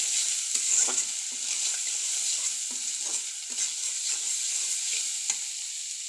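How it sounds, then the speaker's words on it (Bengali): Spices with chili powder, turmeric and salt sautéing in a pan, giving a bright, continuous sizzle broken by regular scrapes and taps of the stirring spoon, with no voices. "দিয়ে দিব হলুদের গুঁড়া, দিয়ে দিব এখানে লবণ, দিয়ে এটাকে কষিয়ে নেব।"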